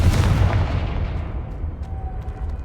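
A Confringo blasting curse explodes in the Hogwarts Legacy video game: a loud, close boom that opens the moment and then rumbles away into a long fading tail.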